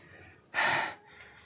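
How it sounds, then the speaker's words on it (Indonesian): A single heavy, sharp gasping breath from a solo hiker high on Mount Sumbing, close and loud against soft background wind, lasting about half a second. "Kenapa napas pun jadi terengah-engah kayak gini?"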